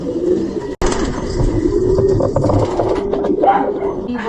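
Racing pigeons gather at a training release point in Tagaytay, cooing and fluttering steadily close by, with a dog barking in the mix and one sharp click.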